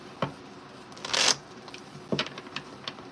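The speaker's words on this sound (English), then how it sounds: "I gotta shuffle that one more time" A tarot card deck is shuffled in a few short bursts: quick papery riffles and taps, one longer riffle in the middle, close and fairly quiet.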